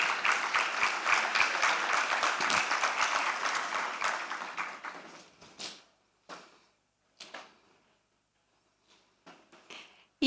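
Audience applause welcoming a panelist at a climate finance panel, a dense sustained clapping for about five seconds that thins out into a few scattered claps and brief bursts before fading.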